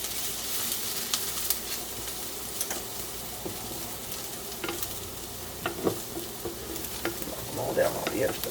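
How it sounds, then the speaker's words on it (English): Sliced garlic cloves sizzle and crackle steadily in a hot pan for a Berber lamb tagine, with occasional stirring clatter and brief pops, moderately loud and close, with no talking. "Now we're going to add 3 sliced garlic cloves. And this will take a few seconds to become fragrant."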